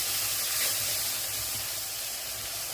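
Spices frying in a pan for an egg and hog plum curry with chili powder, turmeric and salt: a steady, dense hiss of sizzling oil that holds evenly throughout, close and fairly loud, with no talking.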